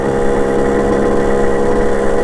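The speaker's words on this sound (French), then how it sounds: "Du coup, comme vous pouvez voir, la moto elle démarre" A 50cc motorbike engine running steadily, loud and close, a constant buzzing drone with no speech.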